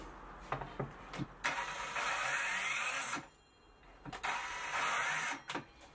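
A Parkside Performance cordless plunge saw runs up in two bursts of loud, steady whine, each lasting a second or more, with clicks and a short pause between them, close by.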